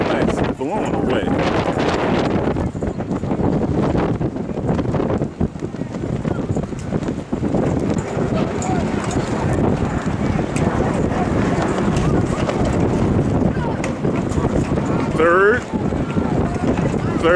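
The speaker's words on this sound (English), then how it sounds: "Our wind has really picked up." Strong wind roars across an outdoor high school playoff football field, a loud, constant buffeting rush over the microphone throughout, with a commentator's voice partly audible beneath the gusts.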